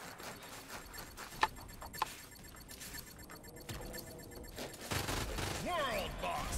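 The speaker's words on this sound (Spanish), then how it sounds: "Escucho disparos" Several sharp gunshots crack out over a noisy background with muffled talk, followed by a denser burst of game-like firing and clatter toward the end.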